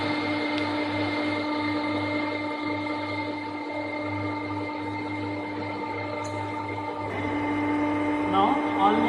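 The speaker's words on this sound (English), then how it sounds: "On the machine, step by step remove the metal." A metal lathe facing a workpiece, cutting away metal step by step, gives a steady motor hum with a low throb and a faint scraping cut, close and continuous, a brief clatter near the end.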